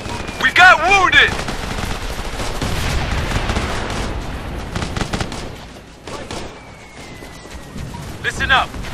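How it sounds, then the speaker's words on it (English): Heavy gunfire in Operation Flashpoint's Red River campaign: rapid bursts of rifle and machine-gun shots, loud and close at first, then a rolling fusillade with scattered cracks and booms, with radio-style voices talking over it. "We're under fire!"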